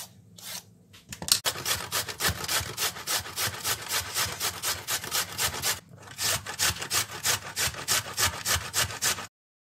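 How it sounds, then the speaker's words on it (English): A large carrot is grated by hand for vegan lentil and red cabbage bhaji batter, giving steady rhythmic rasping strokes that run close and loud, with a brief pause midway and no talk. "So that's our grated carrot ready to go in the batter."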